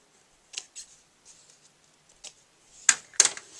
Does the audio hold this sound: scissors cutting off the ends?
yes